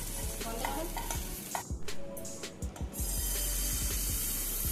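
Patisapta crepes filled with palm pulp fry in a nonstick pan with a steady sizzle. Scraping and stirring strokes cut across it, and the hiss swells louder toward the end.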